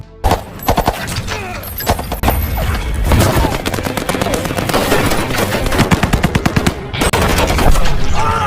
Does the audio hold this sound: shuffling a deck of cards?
no